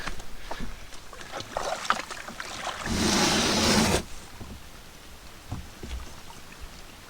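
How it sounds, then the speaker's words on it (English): Rain starting to fall during a canoe trip in southern Algonquin, a steady hiss of drops on water that swells loudly for about a second in the middle of a quiet outdoor scene with small splashes and knocks. "Starting to rain."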